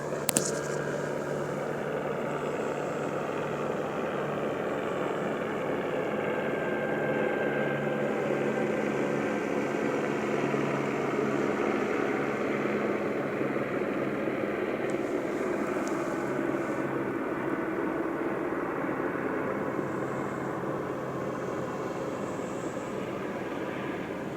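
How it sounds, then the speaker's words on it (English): A steady low engine drone of a helicopter flying overhead, continuous and moderately loud, holding for the whole stretch with no voices. "Listen to that helicopter activity."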